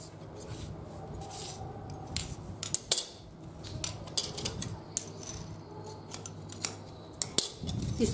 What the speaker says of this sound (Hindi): ये जो एक्स्ट्रा है इसी शेप में कट कर लीजिए।